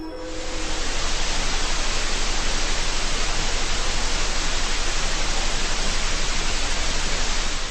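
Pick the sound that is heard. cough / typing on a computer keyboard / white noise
white noise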